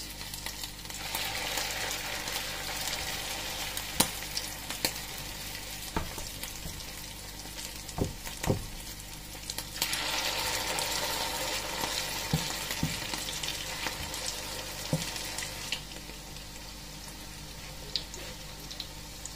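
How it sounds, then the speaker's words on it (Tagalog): A torta omelette fries in a pan still holding the earlier sauté, giving a steady, close sizzle with occasional sharp pops and scrapes, no voices. "Yan, ganyan ko lang siya ipiprito"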